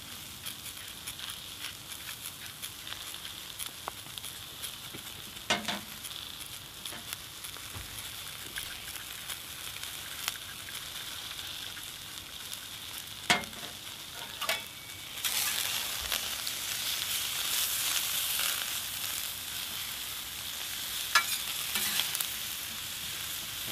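Sweet potatoes cooking on a plancha griddle, salted with a salt and herb mix: a steady close sizzle throughout, rising louder in the second half, with a few light scrapes and no talk.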